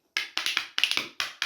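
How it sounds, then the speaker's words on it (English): A pair of salad spoons tapped back to back, seven crisp close clacks in an uneven quick rhythm, each a short bright knock with little ring. "I might just use my salad spoons back to back"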